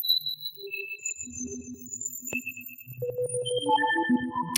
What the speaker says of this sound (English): Then I'm adding Bismuth on the randomized arpeggio pattern and also with some motion.